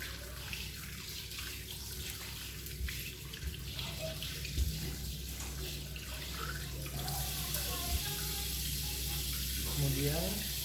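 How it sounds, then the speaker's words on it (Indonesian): Tap water runs steadily into a sink as hands are rinsed under the flow, a continuous close splashing hiss lasting throughout, with faint voices in the background. "bilas tangan dengan air yang mengalir."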